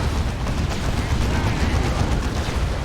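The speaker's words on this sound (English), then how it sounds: "Rocket run thrown in." Rocket run strikes hammer a battlefield in Warhammer 40k: Dawn of War 2 during a 3v3 match, heard as a continuous barrage of loud explosive booms and rattling gunfire-like impacts that lasts about three seconds, with no voices.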